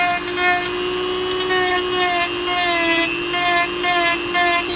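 A steady high-pitched whine of a small power tool drilling into blistered boat fiberglass runs continuously, with slight wavering pitch and no talking.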